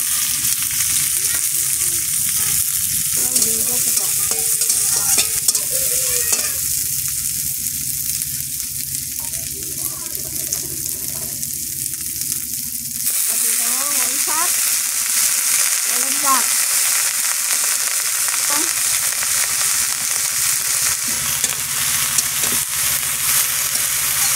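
Whole spices for tempering fry in a hot wok, a loud continuous sizzle that hisses on throughout with occasional stirring scrapes, and a voice speaks briefly over it.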